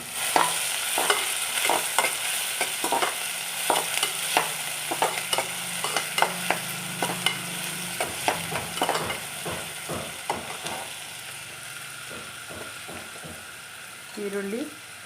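Finely chopped onion frying in hot oil for a mutton gravy masala, with a steady sizzle and a rhythmic series of spoon scrapes and stirs against the pan. The stirring fades and a brief voice comes in near the end.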